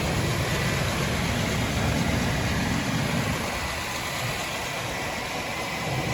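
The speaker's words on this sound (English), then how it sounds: "really just a nice sounding engine and a nice looking engine" A 1996 GMC Safari engine idling steadily, a continuous low rumble with a broadband hiss, close and even throughout with no talk.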